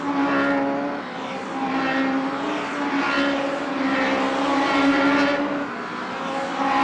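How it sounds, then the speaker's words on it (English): Street stock race cars lapping an oval track during a race, engines roaring loudly and continuously with rising and falling drones as cars pass. "Damien Wright, the full mini stocks man, now pulling away at the front of the field."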